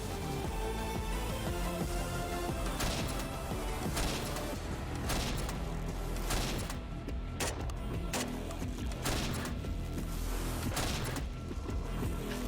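Bursts of Swedish military AK5 rifle gunfire crack out repeatedly over about twelve seconds, sharp shots and rapid volleys layered over background noise and mechanical clatter.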